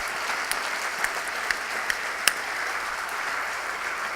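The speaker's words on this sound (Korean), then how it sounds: "박수하면서 하나님 앞에 영광을 돌리면서 맞이하십시다." A church congregation at a New Year's service claps together in a sustained, even wash of applause. A few sharper individual claps stand out now and then, and the whole stays moderately distant.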